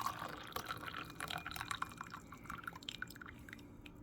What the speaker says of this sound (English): And I will be pouring out the first steep.